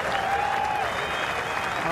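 A golf crowd at The Open at Royal Liverpool applauds a birdie putt by Rory McIlroy on the 9th hole, a dense, sustained wash of clapping with a commentator talking over it.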